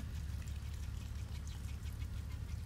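Water flows in a continuous, steady rush with no breaks, close by, with no talking.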